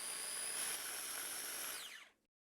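A food processor whirs loudly and steadily as it blends guacamole, a high whining motor hum that holds for about two seconds and then spins down to silence.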